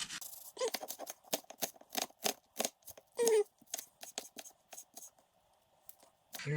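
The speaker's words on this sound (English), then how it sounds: "We're gonna dice these smaller." A knife dices onion on a cutting board in a home kitchen, with a rapid series of crisp, close chops in an uneven rhythm, a short pause near the end, then one final cut.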